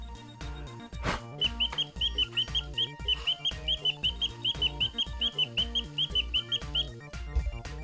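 A robot toy bird in a cage gives a steady run of quick, bright chirps over loud, rhythmic background music, repeating for several seconds.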